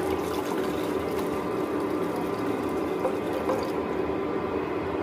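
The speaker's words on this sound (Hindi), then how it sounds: "अब हम 2 कप चाय के हिसाब से यहाँ पर दूध डालते हैं।" Milk poured into a pan of heating water for two cups of masala tea, a steady liquid pouring and splashing sound that runs evenly for the whole stretch at close range, with no voices.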